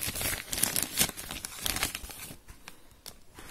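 Close plastic bag crinkling and rustling, busy at first and then thinning out to occasional crackles.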